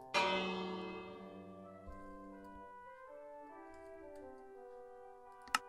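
A bell rung in the farming game Harvest Town: one strong struck tone at the start with long shimmering harmonic overtones that slowly decay over several seconds, alone with no talk, ending in a brief sharp click.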